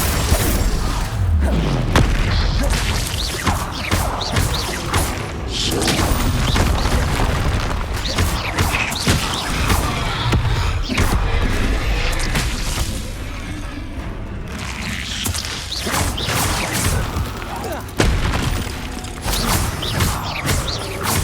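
Repeated Confringo blasting-spell explosions crash through a Hogwarts Legacy battle, loud booms and bursts layered over a dense, continuous wash of combat effects and clattering mechanisms with no pauses.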